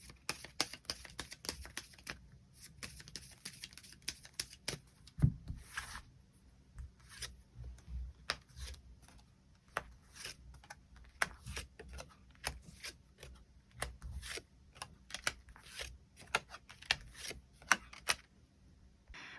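Tarot cards being drawn and laid out, with soft shuffles, slides and light taps on a table coming in irregular bursts, quiet and close, with no talking.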